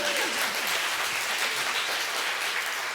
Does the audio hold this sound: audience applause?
yes